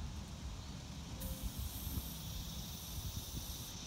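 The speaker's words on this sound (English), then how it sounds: "he's just like soaking them down with that aerosol" An aerosol can sprays a steady, fairly faint hiss onto a wasp nest in an outdoor work setting, continuous for several seconds with a low background rumble and no talking.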